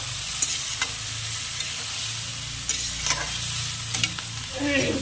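Mutton fries steadily in a pan with ginger, garlic, cumin and chili paste, giving a constant sizzle with repeated scraping stirs of a spatula throughout.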